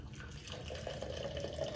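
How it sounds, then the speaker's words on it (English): Boiling water is poured from a kettle into a container during a thermal conductivity lab experiment. A faint, continuous liquid splash and trickle runs throughout, fairly quiet and alone. "I'm going to pour some boiling water in here"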